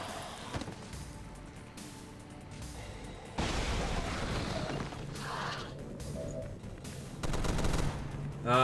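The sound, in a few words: gunfire in the video game XCOM: War of the Chosen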